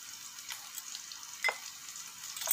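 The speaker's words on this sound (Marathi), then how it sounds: "टोमॅटोही छान असं परतून घ्यायचे" Tomatoes sauté in a pan with turmeric and red chili powder, giving a steady close sizzle with a few brief louder stirring scrapes.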